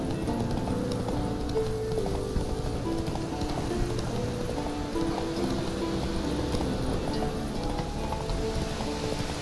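The horse Roach galloping in The Witcher III, a steady rapid clip-clop of hooves on the ground, continuous and fairly loud, with a faint rain-like patter beneath.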